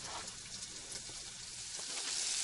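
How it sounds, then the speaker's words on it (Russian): Lard and onions frying in a pot over a campfire-style setup, a steady close crackling sizzle that runs unbroken and grows slightly louder toward the end, with no voices. "Сало с луком обжаривается и греется водичка на чай."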